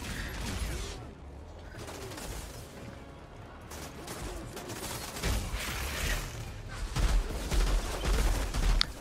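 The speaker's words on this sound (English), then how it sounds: "Oh yeah, they're all shooting at you." Enemy gunfire in the Outriders shooter game, bursts of rapid shots and impacts scattered through a busy mix, louder and denser toward the end.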